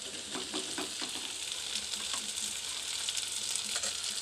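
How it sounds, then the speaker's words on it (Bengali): Chopped tomato frying with onions in a pan, a constant bright sizzle with soft rhythmic stirring scrapes, close up and with no voices. "টমেটো দিয়ে ভালো করে টমেটোকে পেঁয়াজের সাথে মিক্সড করে ভালো করে নেড়ে নিতে হবে"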